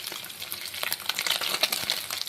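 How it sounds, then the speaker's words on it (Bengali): Boroli fish coated in salt and turmeric frying in hot oil, heard up close as a steady crackling sizzle with irregular pops and no talking. "তেল আমার গরম হয়ে গিয়েছে। এবার নুন হলুদে মেখে রাখা মাছগুলো আমি দিয়ে দেবো।"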